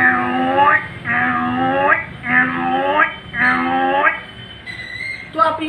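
A man imitates a water buffalo's lowing call with his voice, giving four long, drawn-out moo-like calls in a steady rhythm, close and fairly loud, with a short sound at the end.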